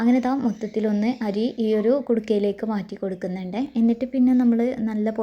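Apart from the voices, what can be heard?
No distinct noise like a dog, phone or traffic.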